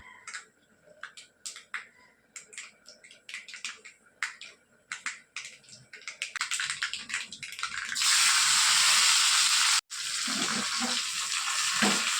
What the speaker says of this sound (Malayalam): ഞാൻ അതിലോട്ട് വെളിച്ചെണ്ണ ഒഴിച്ച് കൊടുത്ത് കടുക് ഇട്ടിട്ടുണ്ട് കേട്ടോ പൊട്ടിക്കാനായിട്ട്